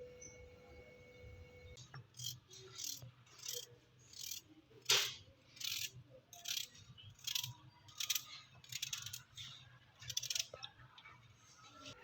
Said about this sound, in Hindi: देन इसको मैं क्यूब शेप में कट कर रही हूँ ताकि इजी से ब्लेंड हो सके।